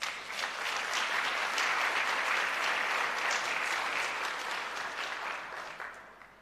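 A seated audience at a ministry rebranding and quality recognition ceremony gives a round of applause for private businesses, clapping swelling quickly, holding steady for several seconds, then tapering off.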